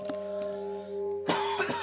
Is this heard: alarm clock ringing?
no